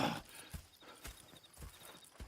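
Horses in the Red Dead Redemption 2 video game clip-clop at a steady walking rhythm, with evenly spaced hoof strikes close by and a brief neigh near the start, no talking.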